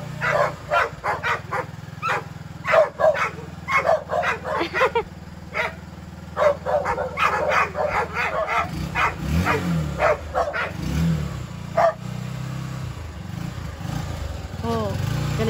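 Dogs bark and yip repeatedly and angrily at a newly bought motorcycle, close and loud, while the motorcycle's low engine idles steadily underneath for the first half.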